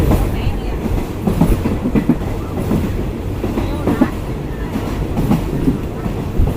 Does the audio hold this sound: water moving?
no